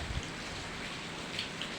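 Soft, steady rain hissing faintly in the background, heard from a veranda during a power cut, with no other clear sounds.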